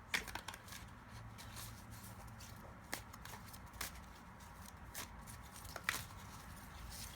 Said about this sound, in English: I'm going to shuffle a bit